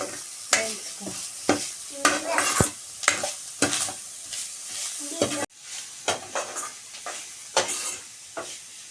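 Grated coconut is stirred and roasted in a pan on low flame for coconut laddu, with a spoon scraping in steady repeated strokes over a soft sizzle, close and clear.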